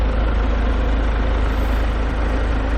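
A Genesis GV70 diesel engine idles in the engine bay, heard up close as a steady, deep low rumble with a dense, even hum and no breaks across the whole stretch.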